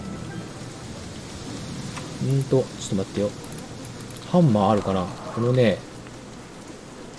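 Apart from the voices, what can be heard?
rain in the video game Don't Starve: Shipwrecked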